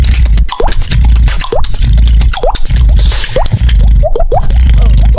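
Loud wet plops and squishy splashes of water, irregular and close, with dripping and sloshing throughout.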